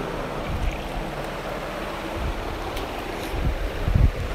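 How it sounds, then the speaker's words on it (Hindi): Garlic and ginger frying in a pan for beef nihari give a steady, even sizzling hiss with occasional soft bumps, moderately loud and without talk. "यहाँ पे मेरा हो रहा है लहसुन अदरक फ्राई"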